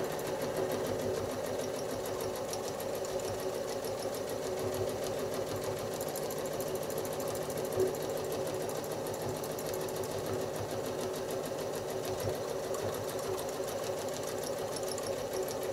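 A sewing machine stitches a beginner nine-patch quilt, a steady fast mechanical whir that runs unbroken and fairly quiet the whole time, with no talk.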